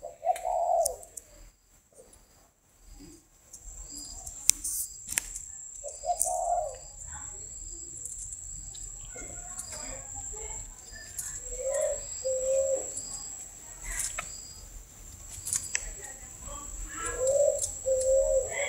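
Spotted doves in a backyard aviary where a hen feeds on the ground give low, soft coos in a few spaced phrases over about twenty seconds, with a faint steady insect-like hiss and light background noise between calls.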